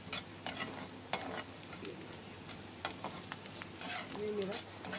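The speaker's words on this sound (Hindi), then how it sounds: "अब ये देखिए मैंने नमक डाला, ये मेरे प्याज भून रहे हैं लहसुन के साथ।" Onions fry with garlic and salt in a pan, a soft, steady sizzle with occasional stirring scrapes and clicks, fairly quiet and continuous.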